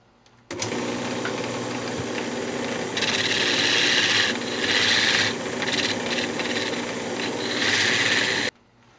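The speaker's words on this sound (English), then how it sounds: "I just went ahead and turned a tenon down here" A wood lathe turns a tenon on the lid of a lidded box: a steady, close, continuous whir with a scraping, rasping cut that swells and eases as the tool works, with no talk.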